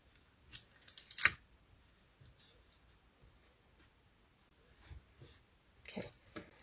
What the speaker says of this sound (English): I am going to stick some tape under here, though, just to secure everything.